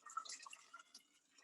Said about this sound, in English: We add water to this soup.